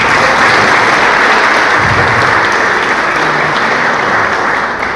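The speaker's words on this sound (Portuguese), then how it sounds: "receber o pastor com as palmas para o Senhor Jesus?" A church congregation claps to welcome the pastor during a family Sunday service, a dense, loud, sustained round of applause that runs the whole length and tapers slightly at the end.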